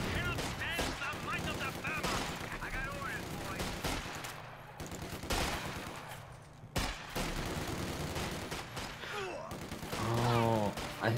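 Rapid bursts of rifle and machine-gun fire crackle throughout a Company of Heroes 2 battle, layered with distant explosions and thumps, and soldier voices call out over the din.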